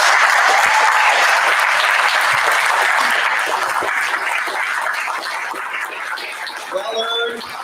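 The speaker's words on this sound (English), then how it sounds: "Can we give him a round of applause?" School board meeting audience gives a school principal a full round of applause, dense and sustained clapping that slowly thins toward the end, with faint voices appearing near the close.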